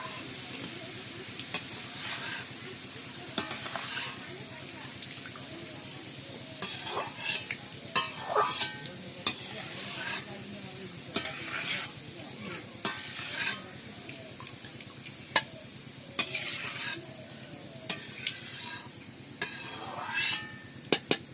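Rice and egg fry in a pan for a home-style fried rice, a low steady sizzle broken by repeated sharp scrapes and clatters of a spatula stirring, close and fairly quiet, with no talking.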